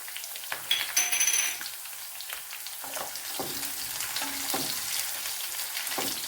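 Green chillies and a small piece of ginger fry in coconut oil, a soft continuous sizzle with a few light clinks and stirring sounds near the start.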